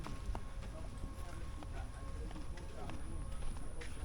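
Horse hooves clip-clop in a steady, light rhythm at a nature park in Lagos, Nigeria, faint and fairly close, with people talking over them and birds in the background.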